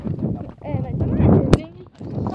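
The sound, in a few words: horse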